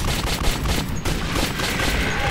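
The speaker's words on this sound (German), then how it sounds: "da kann ich auch ein paar mehr Schüsse hintereinander abfeuern" Rapid gunfire in the shooter Metro 2033, a continuous burst of closely spaced shots running for a couple of seconds, loud and near, with a short sharp crack early on and no talk over it.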